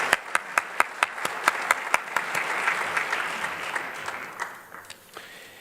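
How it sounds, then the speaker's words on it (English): An audience at a Santa Monica State of the City event applauds city leaders, opening with a few sharp, close claps over broader, moderate clapping that builds and then thins out toward the end. "Please give our leaders a round of applause"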